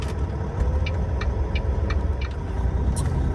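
Truck backing up with a trailer in the mud: the idling diesel engine rumbles low and steady, with a faint, regular ticking repeating about every third of a second.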